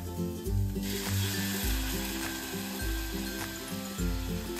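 Bottle gourd sizzles steadily as it is sautéed in a pan, a continuous close frying hiss over a rhythmic low background.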